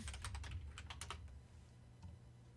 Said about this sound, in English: Do you have a mechanical keyboard?